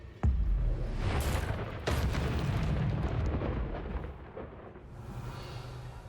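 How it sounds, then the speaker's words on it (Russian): A rumbling thunderstorm in the video game Hogwarts Legacy, set in a cellar: a sharp crack opens a long, heavy, continuous roar of thunder that slowly fades, loud and close, with no talk over it. "у него тут гроза в подвале, знаешь, так это бушует."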